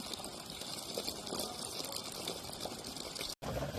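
Steady, broadband rush of water running from a well water pump, continuous and close throughout with one brief dropout near the end.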